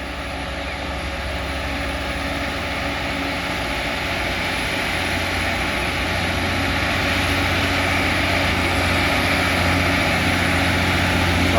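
A Hino 344 truck labouring uphill as it overtakes an Isuzu 360, a loud, continuous engine drone with a deep, steady rumble that swells slightly toward the end, close and without talk.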